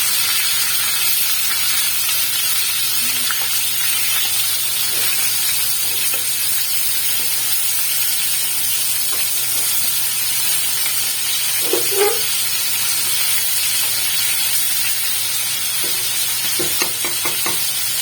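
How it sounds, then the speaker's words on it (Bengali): Loud, constant sizzling of chicken pieces frying in hot oil over a high flame, a dense hiss with occasional scrapes and clinks of a spatula. "একটা একটা করে পিস তুলে এতে ফ্রাই করব। এই পর্যায়ে আমি গ্যাসের আঁচটা হাই ফ্লেমেই রাখবো।"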